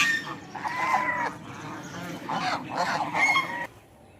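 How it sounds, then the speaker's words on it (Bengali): Domestic geese on a riverbank honk in several loud, close calls, some overlapping in short bursts, over faint background noise. "আশেপাশে যে বাড়িগুলো আছে সেই বাড়িগুলোর পালা রাজহাঁস এগুলো।"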